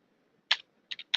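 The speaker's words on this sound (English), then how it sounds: "So I type in Telstra" Four quick clicks of keys on a computer keyboard, one isolated tap then a tight cluster of three, light and close in a quiet room.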